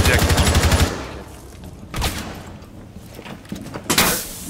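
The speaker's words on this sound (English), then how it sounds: "They're shooting through the mirror." Gunfire through a mirror window in Rainbow Six Siege, a rapid burst of automatic shots at the start followed by sharp impacts and bangs, with a voice speaking under the noise.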